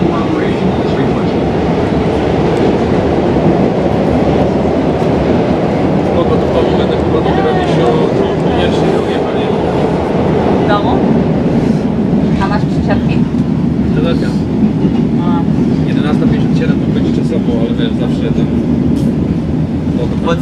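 A CTA Blue Line subway train rolling along from inside the car, a loud continuous rumble with rattling and clatter throughout, and faint voices beneath.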